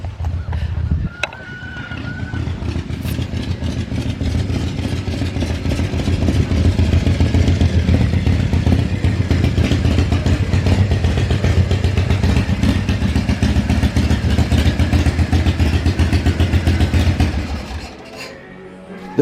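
A Shovelhead motorcycle fitted with a Panhead-era rocker clutch runs loud and steady for most of the clip, with a rough, throbbing low engine note and mechanical clatter, then fades out near the end.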